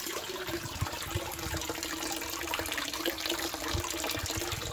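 Water pours from a pond pump in a DIY aquaponic greenhouse, making a steady, close splashing gush with small gurgling bursts throughout.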